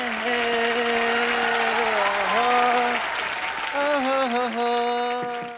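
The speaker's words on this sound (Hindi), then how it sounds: "एक बार जोरदार तालियों से स्वागत कीजिए" Studio audience applause on a Hindi comedy talk show, loud and sustained beneath a blaring musical fanfare with sliding horn-like tones.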